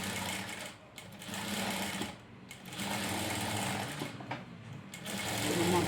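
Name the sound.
sewing machine stitching a tassel in reverse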